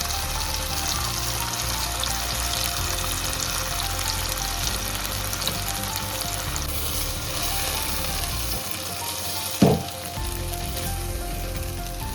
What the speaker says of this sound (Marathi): थोडंसं तापलं की त्याच्यामध्ये हे आपण वाटण केलेलं याच्यामध्ये सोडून देऊया.